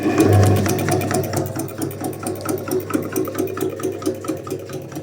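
An electric sprayer pump, run from an EcoFlow Delta 2 power station for spraying peach trees, hums close by with a steady, rapid mechanical pulsing, like a small motor ticking over.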